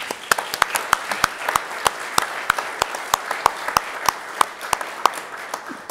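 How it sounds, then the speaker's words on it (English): Scattered, crisp hand claps from a modest audience at a municipal board of mayor and aldermen meeting in Germantown, steady and fairly close for about six seconds, with no voices over them. "We can applaud."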